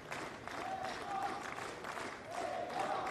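A sustained wash of crowd applause fills a Roland Garros stadium during a first-round tennis match between Roger-Vasselin and Pospisil, with scattered whistles and cheers rising over steady, fairly distant clapping.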